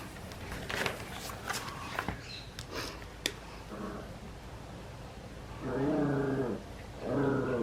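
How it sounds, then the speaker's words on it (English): Yorkie puppies growl and grumble in short playful bursts, with light scuffling and thumps between them, close by. "Yorkie puppies playing with each other"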